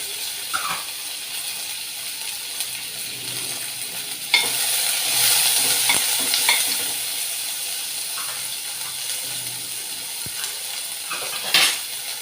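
Chopped onions and green chillies fry in hot oil for a brinjal and peas curry, a close, steady sizzle broken by scraping stirs and a few sharp clatters of a spoon against the pan.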